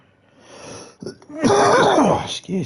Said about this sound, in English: This cough in my throat is annoying.